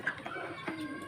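Fayoumi chickens being fed in the afternoon give a few short clucks and soft chirps, fairly close and of moderate loudness, against a steady background murmur with no clear talk.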